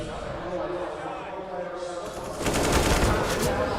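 Gunfire from Counter-Strike during a professional esports grand final, a dense burst of rapid shots growing louder midway, mixed under a caster's continuous talk.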